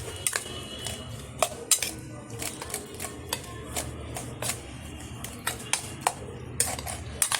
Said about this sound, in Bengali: সবগুলো উপকরণ আমি একটা চামচের মাধ্যমে মিশিয়ে নেব।